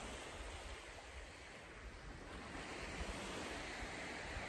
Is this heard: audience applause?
no